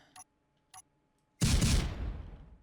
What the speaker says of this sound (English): So it's shooting explosive rounds too.